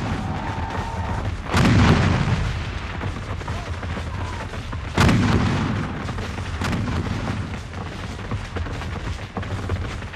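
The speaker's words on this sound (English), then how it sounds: "the federal artillery, posted near the house of a farmer named Hillsman," Artillery cannon fire at a Civil War battle re-enactment, with two loud booming blasts at about two and five seconds and a fainter report later, rolling over a steady background rumble with no talk.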